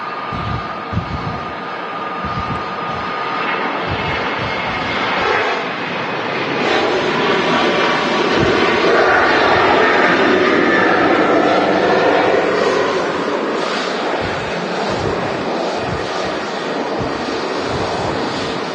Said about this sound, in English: This is Ryanair off to Faro in Portugal.